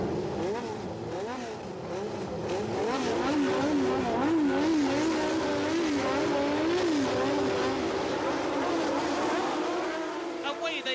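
Formula 1 cars launching off the grid at the 1977 British Grand Prix at Silverstone, a massed roar of revving engines rising and wavering at a distance while a commentator talks over it.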